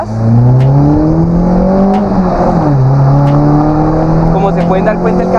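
A Nissan Sentra B13 engine fitted with a bronze clutch and lightened flywheel, missing its air filter and intake, revving up and down in loud, close, rising and falling engine tones, with a voice speaking over it.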